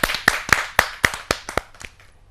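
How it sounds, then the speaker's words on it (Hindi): Audience at a Hindi kavi sammelan poetry gathering clapping in welcome: about eight crisp, evenly spaced hand claps that thin out and fade over two seconds. "तो जोरदार तालियों के साथ स्वागत"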